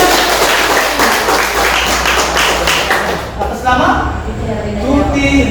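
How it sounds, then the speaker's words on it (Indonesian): Classroom applause from students during a teacher's lesson, a brief burst of clapping mixed with chatter and voices that fades into talk. "Oke, silakan tepuk tangan."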